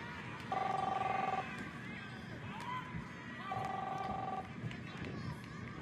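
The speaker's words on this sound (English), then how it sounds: "Chris, answer the phone, please." In the video game Captain Spirit, a telephone rings in two separate electronic bursts about three seconds apart, heard at moderate level over a low, busy indoor background.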